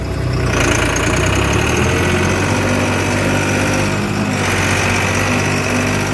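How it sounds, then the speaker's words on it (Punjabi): A tractor engine runs loud and close as it is driven out, a steady droning idle with a brief shift in tone near the start and again around the middle. "ਉਹ ਟਰੈਕਟਰ ਕੱਢਦਾ ਬਾਹਰ"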